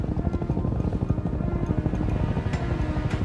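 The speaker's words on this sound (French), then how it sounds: "Vous entendez? Des hélicoptères!" Army helicopters pass overhead in an action film, a dense, steady rotor thrum with rhythmic low-end chopping that holds loud and continuous throughout.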